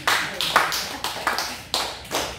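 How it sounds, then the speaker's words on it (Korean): Churchgoers at a Wednesday service clap for a deaconess, about seven distinct claps in an uneven rhythm, close and moderately loud, with no speech over them. "우리 권사님 오래간만에 박수 한번 쳐드려요"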